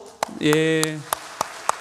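Sparse, rhythmic claps from a church congregation at a Sunday service, about three per second and evenly timed, with a person speaking briefly in the middle.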